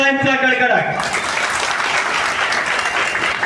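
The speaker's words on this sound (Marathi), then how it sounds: "जोरदार टाळ्यांचा कडकडाट" Loud, sustained audience applause fills a community award ceremony for a Maratha samaj gathering, a dense wash of clapping that swells in after a brief announcement-like tone and continues steadily to the end.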